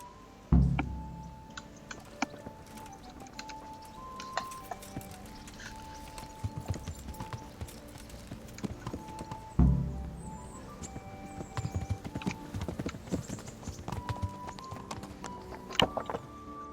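Sparse, irregular horse hoof clops with a couple of heavier thumps, set against a quiet ambience with faint tonal music, in the video game Kingdom Come: Deliverance.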